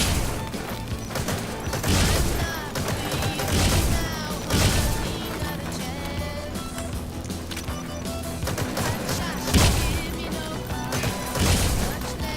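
Gunfire aimed at Psycho Mantis in a Metal Gear Solid boss fight, repeated sharp shots and impacts every couple of seconds over a busy, droning game soundtrack.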